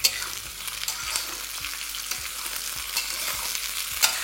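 Chopped cauliflower fries with potato and onion in a pan, a dense close sizzle with regular scraping stirs of a spatula every half second or so, no voices.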